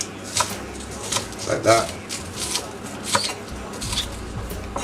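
A knife chops spring onions on a board in a home kitchen, with a handful of quick irregular taps in short bursts, close and crisp, while someone talks over them.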